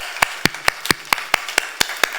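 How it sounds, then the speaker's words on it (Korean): A small church congregation claps for its Sunday-school teachers, about nine sharp, evenly spaced claps close by, sparse and crisp rather than a full roar. "매주 교사로 섬기고 있는 우리 교사들에게도 박수 한번 하겠습니다."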